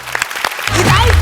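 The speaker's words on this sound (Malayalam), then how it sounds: "ഒരു നല്ല കൈയടി" An audience at a comedy show breaks into applause, brief clapping swelling up after a short spoken introduction from the stage.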